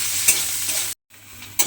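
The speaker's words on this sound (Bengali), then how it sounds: "সেই পেঁয়াজটা আমি তেলের মধ্যে দিয়ে দিলাম" Chopped onion frying in hot oil gives a steady close sizzle with stirring scrapes, briefly cut to silence before the crackling frying resumes.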